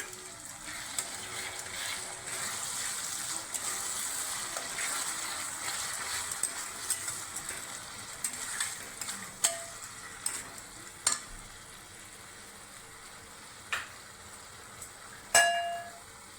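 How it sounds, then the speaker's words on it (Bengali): Onion paste for a Bengali katla fish curry frying in a pan with a steady sizzle and stirring, close and moderate, with a few sharp metallic clinks of a utensil against the pan near the end. "পেঁয়াজ বাটা দিচ্ছি। এটা 8 খানা পেঁয়াজ বাটা আছে"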